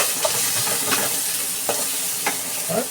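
Garlic sizzles close up in a hot pan, a steady hiss broken by a few sharp stirring scrapes and clicks spaced about a second apart.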